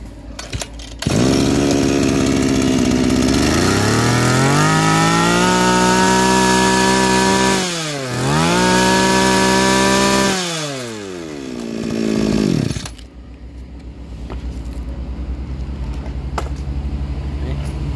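Small used Japanese two-stroke engine on a hand-held power tool, revving loud and close with a buzzing whine that climbs, dips and surges several times before dropping back to a quieter idle.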